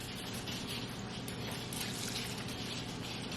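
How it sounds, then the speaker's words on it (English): About three quarters of a cup of water pours into a baking dish of rice and other ingredients during meal prep, a steady close splashing rush that lasts throughout. "we're going to add about 3/4 of a cup of water."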